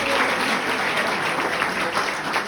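A church congregation applauding God during a Sunday morning service, a full, continuous roar of many hands clapping together, loud and unbroken from start to finish.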